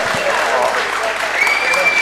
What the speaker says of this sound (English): A huge round of applause for these people here, folks.